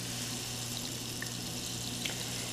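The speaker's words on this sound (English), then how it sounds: "I'm just going to add that lye in there really slowly." Lye being poured slowly into a batch of homemade soap indoors, a steady soft liquid trickle with a faint clink or two, close and continuous throughout.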